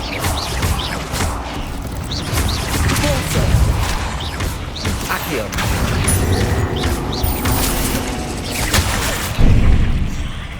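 Confringo fire spell explosions in the Hogwarts Legacy video game, a dense run of booming blasts and crackling impacts with mechanical rattles, loud and continuous, with a heavier burst near the end and a voice briefly present.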